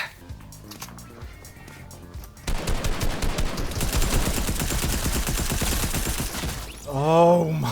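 Bursts of rapid automatic gunfire erupt in a Fortnite Battle Royale match, loud and continuous after a quieter opening, ending in a rising electronic game sound.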